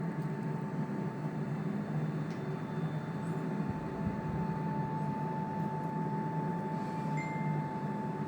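A Boeing 747 in Microsoft Flight Simulator lifting off and raising its landing gear: a steady, loud engine roar with a constant high whine running throughout and a brief low thump partway through.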